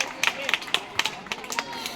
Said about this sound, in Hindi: जरा जोरदार तालियां बजाकर हमारे बच्चों की हिम्मत अफजाई कीजिए।